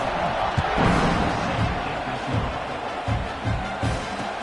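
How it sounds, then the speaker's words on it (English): Stadium crowd in a college football video game keeps up a dense, loud buzz of cheering and murmur after a score, with a few dull thumps scattered through the steady roar. "this crowd is buzzing after that last score"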